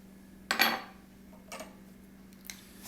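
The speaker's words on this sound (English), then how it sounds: "Stir it around a little bit." A spoon clinks against a mug three times at roughly one-second intervals while sweetener is stirred into a homemade latte, crisp and close, with no talking.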